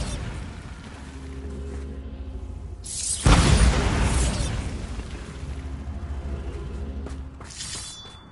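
A Bombarda blasting spell in Hogwarts Legacy goes off with a sudden, loud, close explosion. A rumbling low drone comes before it, and the crackling debris tails off over several seconds.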